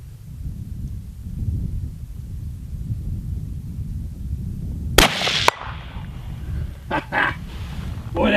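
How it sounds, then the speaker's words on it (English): A 25-06 rifle fires a single loud, sharp gunshot outdoors that cracks suddenly out of steady wind noise, followed by a brief rolling echo and some faint clatter. "I get to shoot it again"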